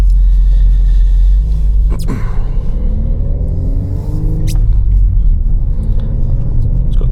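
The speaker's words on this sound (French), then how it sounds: "On a des pops et des crackles, on a des bruits de popcorn à l'intérieur qui sortent." Manual Volkswagen Golf R drifting on ice, its exhaust giving a steady, loud engine rumble with a few sharp pop-like bursts rising through it.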